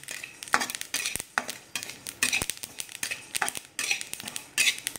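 Black sesame seeds roasting in a pan, stirred with a utensil that scrapes and clinks against the metal in an irregular rhythm, close and fairly quiet, with no talking.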